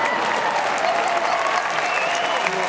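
Sustained applause from a large audience at a FreePAC political rally in July 2012, a steady dense wash of clapping filling the hall without a break.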